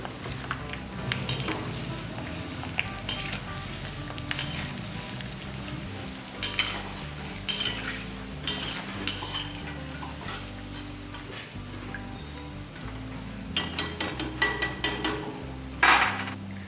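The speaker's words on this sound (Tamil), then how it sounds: "நம்ம எண்ணெயில் போடும்போது சீக்கிரமாக வெங்காயம் தீயறதுக்கு வாய்ப்பு இருக்குது அதனால் ஸ்லோ ஃப்ளேமில் வச்சுட்டு வறுத்துக்கலாம்" Onion vathal frying in oil over a slow flame, with a steady close sizzle and crackle and occasional sharp clinks of stirring against the pan.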